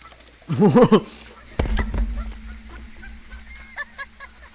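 A goose gives a quick series of loud, close honks, followed by a sharp thump and rumbling noise with some faint chatter.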